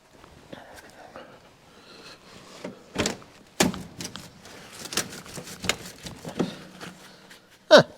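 Someone works at the frozen door of a 1952 Chevy Styleline Deluxe, with tugging, clunks and metallic rattles, a couple of sharp knocks, and a final loud thump, all close by.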